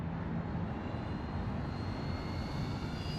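A FlightLine OV-10 Bronco twin-engine model airplane flies by at full throttle, its electric motors making a steady, loud, continuous buzz with no talk over it.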